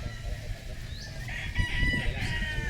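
Chickens on a farm in Masbate cluck and crow at moderate distance, with short calls rising over a steady outdoor background.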